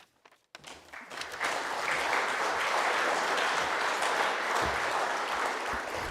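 An audience applauds sports award finalists at a regional sports awards evening, a brief hush giving way to sustained, dense clapping that holds steady to the end.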